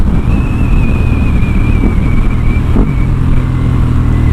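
Ducati Hypermotard 939 SP motorcycle engine humming steadily at speed, a low continuous drone with a thin whine above it and some wind rush.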